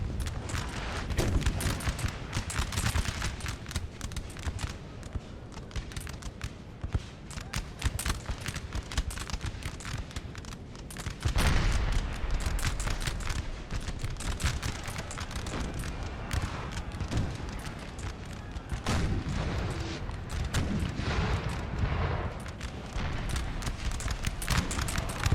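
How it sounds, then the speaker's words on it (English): Artillery and musket fire roll on through a 4v4 battle in the Napoleonic Total War 3 game, a dense, continuous crackle of volleys and booms with no break, moderately loud throughout. "that artillery"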